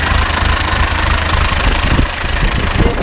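An Ursus C-360 tractor engine runs steadily at idle after a cold start, a loud, close, continuous diesel chug with an even knocking throb and no talking.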